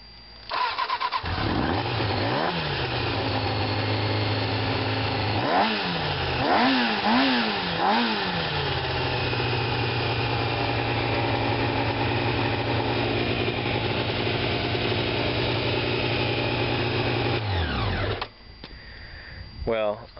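A motorcycle engine, worked on with a new good battery, cranks in several short bursts, catches and settles into a steady loud idle for about ten seconds before being shut off; voices talk lightly over it.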